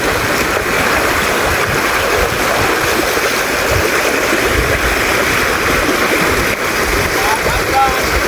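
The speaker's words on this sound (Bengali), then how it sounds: "পানির শব্দ শুনে তো বুঝতে পারছেন যে কিরকম পানির চাপ যাচ্ছে" Floodwater rushes hard through a channel cut across flooded farmland, a steady loud roar of turbulent water filling the whole clip without a break.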